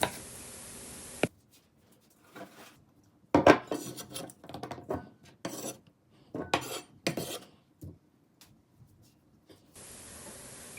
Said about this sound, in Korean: 꽝꽝 때려준 오이를 칼로 적당한 길이로 잘라줄게요